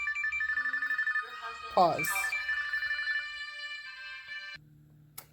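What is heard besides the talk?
phone ringing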